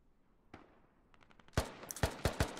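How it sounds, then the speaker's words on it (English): Gunfire in the military shooter game Squad: a faint single shot, then a short burst of quieter pops, followed by several loud, sharp close shots in quick irregular succession. "I heard like gunshots like right next to me."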